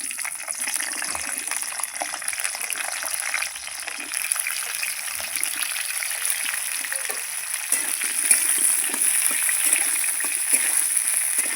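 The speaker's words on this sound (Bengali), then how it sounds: "তেল গরম হয়ে গেছে প্রথমে আমি ফুলকপিগুলো দিয়ে দিচ্ছি" Cauliflower pieces frying in hot oil give a steady, close, loud sizzle and crackle that hisses on unbroken for about twelve seconds with no talking.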